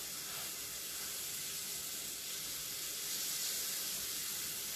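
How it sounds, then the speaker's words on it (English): Country fried steak frying in a pan over low heat gives a steady, even sizzle and hiss that holds at a moderate level from start to finish, with no voices. "we're going to put them back on here and let them keep frying just at low speed here"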